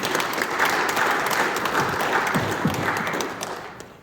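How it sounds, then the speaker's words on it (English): An audience at a university science panel event applauds the speakers, steady clapping at moderate distance that holds and then fades toward the end. "we'd love to get a round of applause for the speakers that we have up here"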